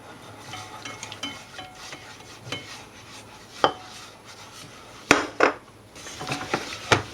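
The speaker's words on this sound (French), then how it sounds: "On va continuer de mélanger comme ceci à feu moyen pendant 1 à 2 minutes" A utensil scrapes and stirs a thick flour and butter mixture in a saucepan over medium heat, with irregular knocks and clinks against the pan over a faint background sizzle.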